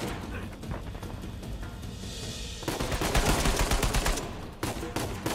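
Rapid AK rifle gunfire from the video game Uncharted 4, loud bursts of automatic shots that intensify midway and continue in close, dense volleys with a brief break near the end.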